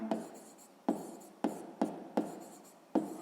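Pen strokes on paper during a sixth-grade maths exercise, a series of about six short scratchy bursts with sharp onsets and quick fades, close and fairly quiet, with no talking.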